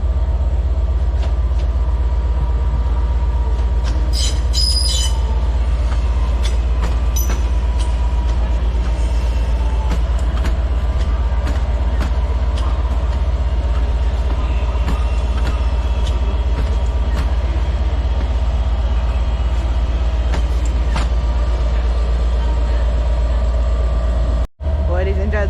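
A Class 323 electric train arrives at Manchester Piccadilly, with a long steady low rumble and faint wheel and track squeals over about twenty-five seconds of busy station ambience.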